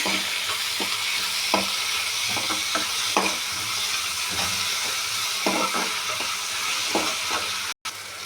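Tomatoes, onions and salt fry in a pan for fish kulambu, a continuous close sizzle broken by repeated scraping stirs of a spatula at an uneven rhythm, with a brief dropout near the end.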